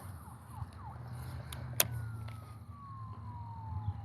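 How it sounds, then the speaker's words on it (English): Emergency vehicle siren wails at a distance, its pitch sweeping and slowly falling over several seconds amid faint outdoor background noise, with one sharp click partway through. "And here comes the sirens."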